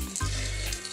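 Eggplant dipped in a thin flour-and-water batter drops into hot oil in a frying pan, giving a steady loud sizzle and bubbling that starts abruptly and cuts off after under a second.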